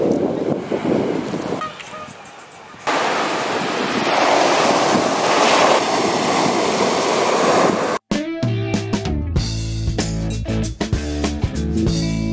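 Ocean waves roll onto the beach at Lyubimovka in Crimea at sunset, a loud, close surf wash mixed with wind noise on the microphone, then cut off abruptly and replaced by music.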